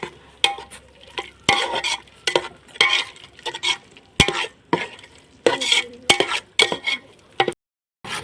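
Yogurt is stirred into ginger garlic paste frying in a pot for biryani: close, repeated scraping strokes of a spoon against the pan over a light sizzle, in an uneven rhythm with brief pauses.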